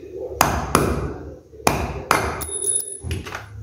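A small nail is struck with a hammer into a piece of wood: about five sharp, ringing metallic hits in uneven rhythm, close and loud, with no talking.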